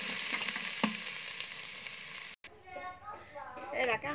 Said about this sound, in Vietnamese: Hành tỏi phi lên nè các bạn.